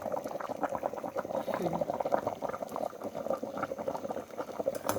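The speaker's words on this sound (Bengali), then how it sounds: "আর এদিকে ফুটছে ভাত বসিয়ে দিয়েছি অনেকক্ষণ আগে" Rice boiling steadily in a pot on a home stove, a continuous bubbling simmer heard alone at a close, moderate level throughout.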